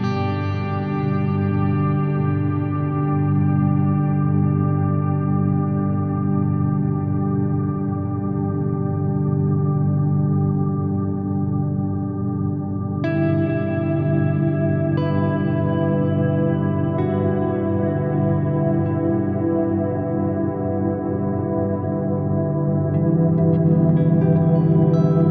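A Chase Bliss Meris CXM 1978 reverb pedal, with long reverb times and crossover turned fully up, holds sustained chords in a dense, washy ambient tail, shifting to new chords partway through and continuing without any speech.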